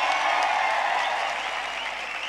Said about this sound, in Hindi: एक बार हम उनका भी ताली बजाकर धन्यवाद करेंगे।